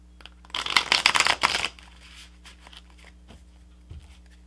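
A deck of tarot cards is shuffled in a quick, dense flurry of riffling flicks lasting about a second, then trails off into a few soft slides and taps, close up with no talking.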